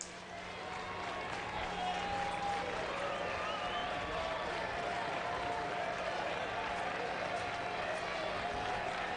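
A Houston college baseball crowd on its feet at a 2008 regional game, a steady broad roar of cheering and clapping that holds level throughout, with faint talk and a low hum underneath.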